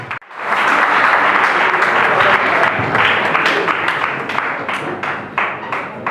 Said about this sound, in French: Merci pour vos applaudissements, s'il vous plaît.